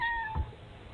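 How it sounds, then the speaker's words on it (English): A cat gives a single short, faint meow over quiet background hiss, with a brief low thump partway through. "Look at the kitty."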